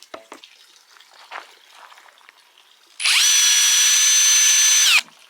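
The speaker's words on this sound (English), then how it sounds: "I'm going to drill some holes around here" A power drill bores holes into a Fram 15W40 five-gallon plastic bucket, a steady loud whine running about two seconds after a quiet stretch of faint handling noise.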